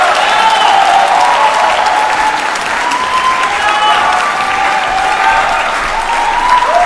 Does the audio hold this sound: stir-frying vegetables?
no